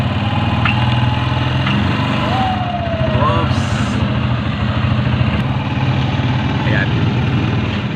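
Motorcycle engine, an SRM 150, idling steadily with a low, even throb close by, while a person speaks briefly over it.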